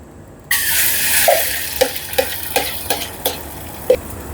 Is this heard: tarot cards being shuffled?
no